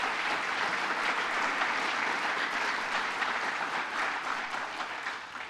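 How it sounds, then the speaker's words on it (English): Steady, sustained audience applause from a live crowd at a public radio event, loud and dense clapping throughout that eases slightly toward the end. "So please, a round of applause for their efforts."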